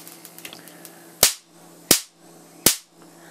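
High-voltage spark discharge from a neon sign transformer with a voltage multiplier, jumping about 3 centimeters between electrodes: three loud, sharp cracking bangs evenly spaced under a second apart over a quiet electrical hum.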